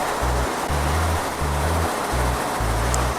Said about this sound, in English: At the end of the test, the printer will print automatically.